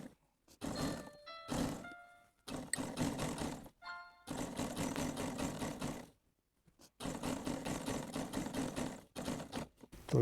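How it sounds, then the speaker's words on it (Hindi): An electric sewing machine stitching lace onto a dupatta runs in several bursts of steady, close whirring with short pauses between runs. "और अब इस साइड पे हम उसी तरह सिलाई लगाएंगे।"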